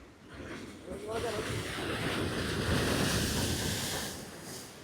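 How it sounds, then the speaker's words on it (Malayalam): Sea waves break on Vellayil beach, one broad wash that swells, holds and fades over a few seconds at moderate distance, with people talking over it. "നല്ല തിരമാല കേട്ടോ."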